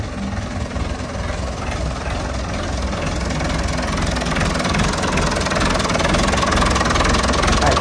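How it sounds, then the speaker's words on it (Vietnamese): A Massey Ferguson MF 165 tractor engine idles nearby with a steady, knocking diesel chug and rattling vibration, continuous throughout with no talking. "nổ máy cho anh em nghe nghe sơ tiếng máy coi."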